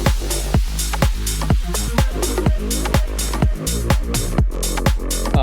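Bass notes run through an iZotope Hybrid Reverb impulse response, with punchy rhythmic hits and sustained low tones trailing into a reverberant tail, steady and loud without any talking.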